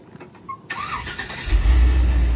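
A 2006 Chevrolet C4500 box truck with an 8.1 Vortec gasoline engine and 185,000 miles cranks briefly, catches and settles into a loud, steady low idle close by.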